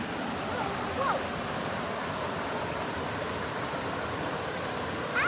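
Steady broadband rushing of a river at a backcountry trail crossing in Georgia while someone rinses sand off in the water, a constant close wash of flowing water with no clear voices.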